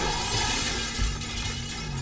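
Car window glass shattering under gunfire in GTA 5, on a Mercedes-Benz being tested for toughness: a dense, harsh crackle of breaking glass lasting about two seconds, loud and close, with a sharper burst midway.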